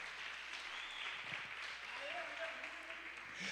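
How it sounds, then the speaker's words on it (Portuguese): Church congregation applause fills the space, a steady wash of clapping with voices mixed in and a brief tonal line rising in the middle. "Dê um aplauso a Jesus."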